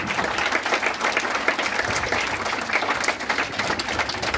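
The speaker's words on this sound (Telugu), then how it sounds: "చప్పట్లు కొట్టాలనిపించుకోవడం లేదు." A school audience at Origin E.M. High School applauds at an event, with dense, steady clapping from many hands that carries loud and continuous throughout without any break.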